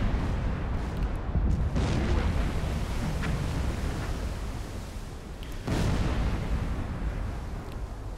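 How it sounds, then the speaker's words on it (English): A torpedo striking a ship in Silent Hunter 4, a heavy, rumbling explosion that sustains as a broad roar with a second muffled boom midway, heard without talk. "Judging by the hit, we didn't need to send that second torpedo in"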